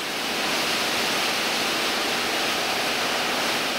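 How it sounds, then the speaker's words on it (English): A shipboard high fog water mist fire suppression system sprays microscopic droplets in a steady, dense hiss that holds unbroken throughout, close and loud. "high fog delivers microscopic droplets of water that disperse heat and rapidly cool the fire"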